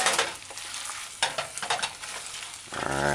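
Chicken and broccoli stir-fried in a pan over a flame, with a steady loud sizzle broken by scraping stirs and lifts, then a brief metallic pan ring near the end.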